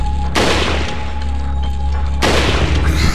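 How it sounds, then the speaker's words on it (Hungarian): Two heavy gunshots ring out in the Resident Evil 4 video game, loud booming blasts with long echoing tails, spaced about two seconds apart over a steady low game rumble. "Egy lövés, két lövés, eddig jó. Három lövés, most leszek bajba."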